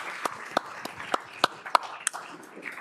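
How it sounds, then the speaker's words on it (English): Scattered applause from a conference audience for a panel on the Colorado River, a few sharp separate claps spaced irregularly over quiet room tone, fairly faint and brief. "Could you give them another round of applause for sticking their necks out?"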